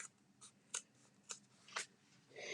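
Scissors cutting through thick cardboard for a mini album binding, heard as four or five sharp, quiet snips spaced about half a second apart, each a crisp bright crunch with near silence between.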